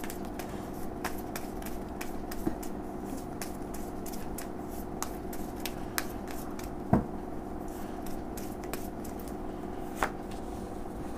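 Tarot cards being shuffled and drawn by hand, a quiet soft riffling with several sharp card snaps and taps spaced a few seconds apart over a faint steady background hum.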